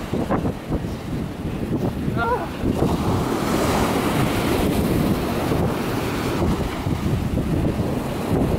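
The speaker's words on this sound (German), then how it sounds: "hier habe ich versucht aufzunehmen, wie die Wellen von zwei verschiedenen Seiten kommen" Sea waves roll in on the beach at Ellenbogen on Sylt, a steady loud surf wash blended with gusting wind buffeting the microphone, with a few faint bird calls early on.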